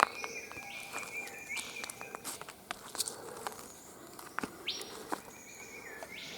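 A loud bird rustles and scratches through leaf litter in the understory of Ravensbourne National Park, with soft patter and scuffing mixed with intermittent chirps and calls nearby in forest quiet.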